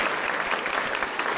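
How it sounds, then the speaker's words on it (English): Brief burst of dense, even clapping from an audience at a talk on a state project, loud and continuous for its short length. "round of applause"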